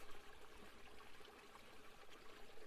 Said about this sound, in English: You can hear the waterfall in the distance, a soft, steady rhythm like the heartbeat of the earth herself.